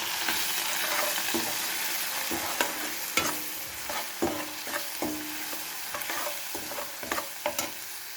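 A thick tomato curry with chilli, salt and turmeric sizzles in a pan as a spoon stirs and scrapes repeatedly, with irregular knocks against the pan's sides.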